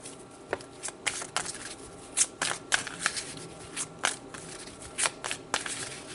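Tarot cards shuffled by hand, a run of quick riffling and snapping bursts at irregular intervals, close and fairly quiet, with no talking.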